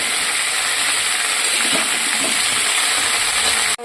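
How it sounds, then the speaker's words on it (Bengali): Vegetables for shukto frying over high heat in a pan, a loud, dense, continuous hiss and sizzle with faint stirring movements underneath, cut off abruptly at the very end. "প্রথমে গ্যাস বাড়িয়ে ভালো করে ভেজে নেবো"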